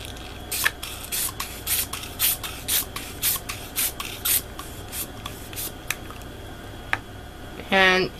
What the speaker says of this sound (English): Just make sure that I don't spray it everywhere.